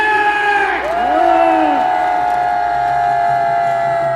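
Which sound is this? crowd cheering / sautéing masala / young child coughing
crowd cheering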